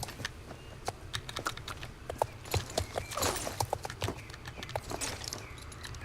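A horse gallops in the Star Stable video game, with rapid, sharp hoofbeats in a fast irregular rhythm, close and prominent, with no talking over them.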